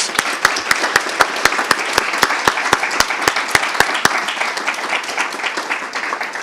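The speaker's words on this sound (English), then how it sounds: "Let's please give them all another round of applause." Audience at a student speech contest gives a round of applause, steady crowd clapping with a strong, evenly timed rhythmic clap standing out up close before the rhythm fades and the applause thins.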